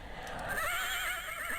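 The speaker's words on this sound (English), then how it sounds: "He even neighs like a horse, because that's what horses do" The winged horse Pegasus in King's Quest II gives a single high, wavering whinny that starts after a brief moment and trembles steadily to the end, close and fairly loud, with no speech over it.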